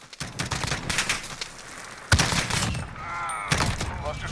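An SR-25 rifle fires in semi-auto in Call of Duty Modern Warfare, a rapid run of close, loud shots with a sharp crack midway and scattered bursts after, no voices.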